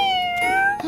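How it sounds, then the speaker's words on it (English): A single drawn-out meow from a cartoon cat, clear and close, heard alone in a children's animated series about a little bus. "This kitty came to take something."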